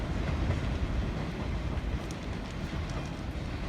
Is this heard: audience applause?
no